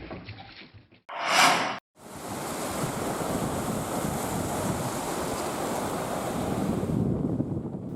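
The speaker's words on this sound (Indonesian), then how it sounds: "Angin kencang disertai gelombang tinggi menghantam puluhan perahu" Strong wind and heavy surf pound the beach at Lampu 1, Merauke, Papua, where dozens of moored fishing boats lie. A steady, loud roar of breaking waves and gusting wind rumbles on, with a brief burst of hiss near the start.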